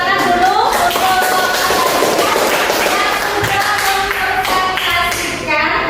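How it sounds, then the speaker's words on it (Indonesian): A group of people in a classroom claps for a presenting group, a dense burst of applause lasting several seconds before thinning out near the end, with voices mixed in. "Tepuk tangan dulu untuk"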